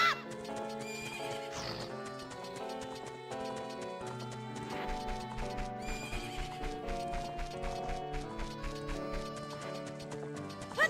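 A horse in the video game Horizon Forbidden West whinnies loudly near the start, then its hooves beat a quick, regular clip-clop over layered game music, no one speaking.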